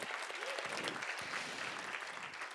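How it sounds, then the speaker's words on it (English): Applause from a live audience at a show by The Abrams, greeting a guitar built by the performer's grandfather; dense, steady clapping carries through the whole stretch at moderate level, with no voices on top. "I'm gonna clap for that"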